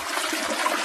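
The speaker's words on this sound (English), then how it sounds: "Or flush myself down the toilet." A toilet flushes in a brief, continuous rush of water, close and fairly loud, with no voices over it.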